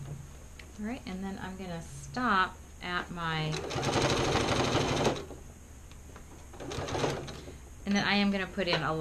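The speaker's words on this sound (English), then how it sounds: "Put in a locking stitch there." Long-arm quilting machine sewing a locking stitch on a quilted soup bowl cozy, short bursts of rapid mechanical stitching at close range alternating with someone talking between them.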